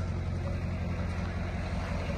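A vehicle idles steadily, with a low, continuous engine rumble that stays even and close throughout, with no voices over it.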